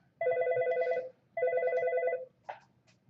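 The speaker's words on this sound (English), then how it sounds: "Well, my phone's ringing." A telephone rings in two long electronic trill bursts of about a second each, with a short gap between them, clear and fairly close, followed by a brief faint click.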